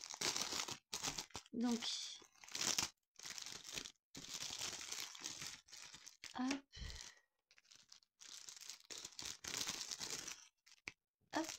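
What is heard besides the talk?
tearing open a plastic package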